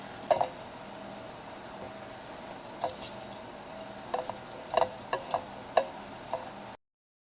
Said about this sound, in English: Mixing the butter up all the way up the sides of the pan because the cake will rise